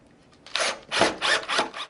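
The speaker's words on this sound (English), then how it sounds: "line your mounting plate up with the pre-drilled holes and simply begin by screwing those into place" Number 10 deep-thread screws are driven into a mounting plate for a wooden pullout pantry shelf. Four close, rasping grinding bursts follow one another quickly.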